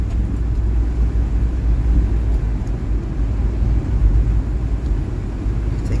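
Steady low road rumble of a car driving alongside Interstate 95 in a Northeast Philadelphia snowstorm, continuous broadband engine and tire noise close by with no talk.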